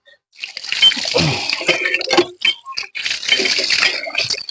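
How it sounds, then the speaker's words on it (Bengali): Raw turmeric washed under a running tap, with splashing water and rattling knocks as the roots are rubbed and handled, close and fairly loud in bursts. "হলুদ গুলো ধুয়ে এলাম কলের থেকে একটু ধুয়ে এলাম ওই এখন এই যে ধুয়ে নিয়ে যাই"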